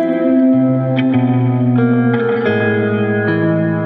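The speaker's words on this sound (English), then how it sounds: "So now we really hear this behaving like its namesake, the lo-fi reverberator." A lo-fi reverberator effect in dark mode, with its size turned up and regeneration engaged, smears sustained harmonic tones into a loud, continuous wash of reverb, with a few brief note changes ringing out through dense, dark echoing tails and no voices.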